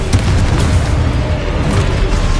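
A Confringo spell explosion in Hogwarts Legacy, heard as a loud, continuous booming blast with a deep rumble that fills the whole moment without pause.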